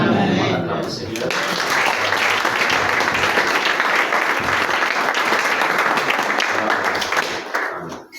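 Church congregation applauding and cheering during a worship service, dense sustained clapping from a large crowd for about seven seconds before fading out at the end, with a voice heard at the start.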